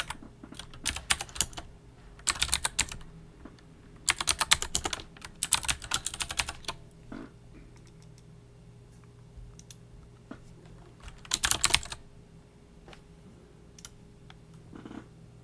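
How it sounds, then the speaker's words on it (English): Fast bursts of typing on a computer keyboard, close and crisp clusters of key clicks separated by quiet pauses, over a faint steady hum with no talk. "I gotta type this quick."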